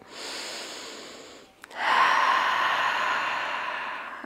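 Breathing during a Pilates body-strengthening exercise, a long steady breath, a brief pause, then a stronger, louder exhale that carries on to the end, close and alone.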